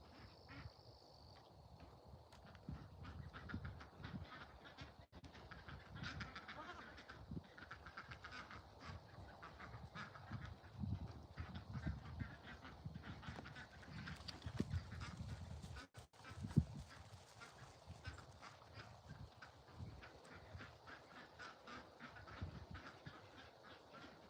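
Ducks quack over a long stretch at an outdoor bonfire with goats nearby, the calls faint and overlapping against steady low background noise.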